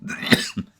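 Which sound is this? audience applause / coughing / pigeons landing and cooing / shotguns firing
coughing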